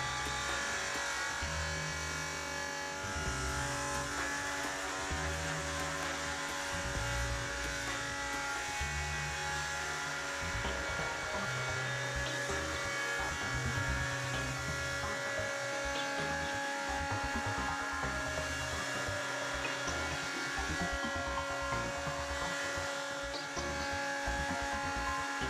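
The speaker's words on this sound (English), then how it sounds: "set the cutting depth of the second stage and repeat the milling procedure into the opposite direction" A BDS Auto CUT 500 weld bevelling machine mills a bevel, giving a steady, loud mechanical whine and buzz with a low droning motor hum that runs unbroken for the whole stretch, with no talking.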